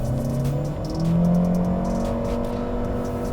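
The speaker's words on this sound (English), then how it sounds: "It's actually quite a gentle acceleration." A Chery crossover with a 148-horsepower engine pulls away at full throttle, its steady engine drone rising gently in pitch from inside the cabin, fairly quiet and smooth with no speech.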